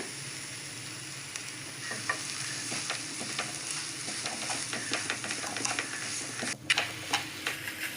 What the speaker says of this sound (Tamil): கைவிடாமல் கலந்து விட்டுட்டே இருக்கணும்